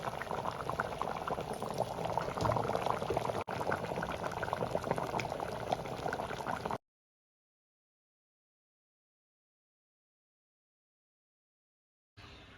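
Mutton kulambu gravy boiling in a pot, a steady close bubbling and simmering that runs for several seconds, then cuts to silence before returning briefly at the end.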